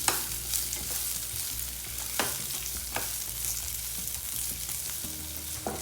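Sliced capsicum sautes in hot oil with chili flakes, crackling in a steady sizzle broken by a few sharper pops and the scrape of stirring, close and fairly quiet.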